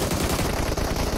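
Continuous rapid gunfire from a PUBG Mobile firefight, a dense rattle of shots pounding without a break for the whole stretch, loud and close, with no voices.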